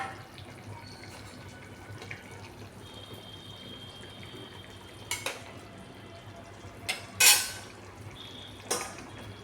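Dhoka lentil-cake balls are dropped into simmering dalna curry in a pan, giving a few separate clattering splashes and clinks against a quiet, steady background.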